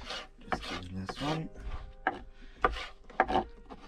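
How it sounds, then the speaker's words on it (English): A knife chops red peppers on a board in a van kitchen, making close, uneven chopping strikes mixed with rubbing and scraping sounds, with no talking. "we're just gonna cut our red peppers, remove the heart, try to get rid of all the seeds, and then you're just gonna chop it"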